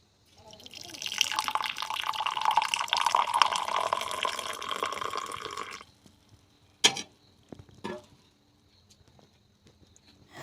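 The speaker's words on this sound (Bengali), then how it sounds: "চাটা হয়ে গেছে, এবার আমি মগে ঢেলে নিয়েছি" Tea poured from a pot into a coffee mug, a steady close splashing stream lasting several seconds before stopping, followed by a couple of sharp knocks of the pot or mug being set down in a quiet room.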